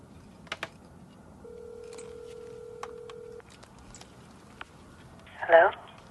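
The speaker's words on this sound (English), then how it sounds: "I think I dialed the wrong number" Telephone keypad tones beep as a number is dialed, followed by a steady ringback tone and a brief ring, fairly quiet in a dramatic scene.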